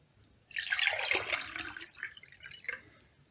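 Water is poured into a glass in a steady splashing burst lasting about two seconds, tapering off into a few gurgles and drips, heard close up with no talking.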